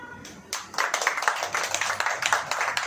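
A group claps in a steady, rhythmic beat that starts after a brief pause and keeps going at moderate volume, with faint voices underneath.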